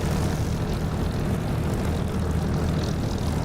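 An aircraft engine from the DCS flight simulator game drones steadily and loudly throughout, a constant propeller-like roar with no talking over it.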